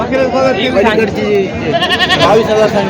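Goats bleating at a busy Khandoba goat market in Parbhani, Marathwada, with several wavering calls overlapping close by amid loud crowd chatter and talking throughout.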